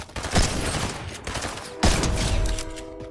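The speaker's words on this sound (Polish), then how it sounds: "Ktoś we mnie strzela." Rapid bursts of automatic gunfire in Fortnite, loud and dense, one volley starting early and a second sharp burst erupting about halfway, with no talking.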